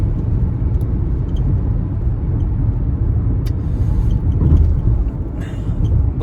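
Car driving in traffic, a loud continuous road rumble and engine drone heard from inside the vehicle, with a few faint clicks and higher noises over it and no clear talking.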